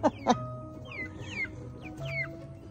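Chickens cluck softly and close by in a coop with young chicks, two short loud clucks at the start followed by quieter chirpy calls and murmurs.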